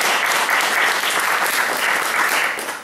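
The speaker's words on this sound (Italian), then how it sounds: "a lui va il nostro applauso" Audience applause at an Italian presentation event on medieval Cefalù, loud dense clapping from a full room holding steady, then tapering off slightly at the close.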